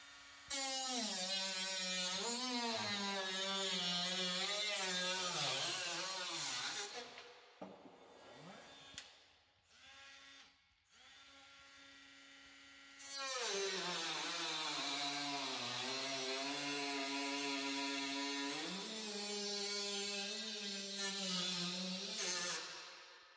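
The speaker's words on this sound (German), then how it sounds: "Das mache ich mit der kleinen Flex." A small angle grinder cuts away the plastic webs on a Carbest camper window, its loud whining drone running steadily, dropping out briefly in the middle, then starting up again and continuing to the end.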